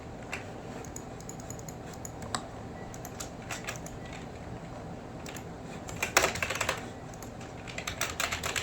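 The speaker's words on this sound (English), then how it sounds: "I'm just pressing the keys" Keys clack on a computer keyboard in an irregular, close run of taps, with a brief faster burst near the end and no voices.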